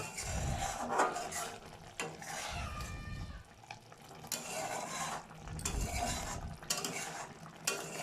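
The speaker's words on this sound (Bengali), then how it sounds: "আর ভালো করে মিশিয়ে নেব" A spoon stirring salt into a Bengali doi patol curry of pointed gourd in yogurt, giving repeated scraping and clattering strokes against the pan with a faint sizzle underneath, near and fairly quiet.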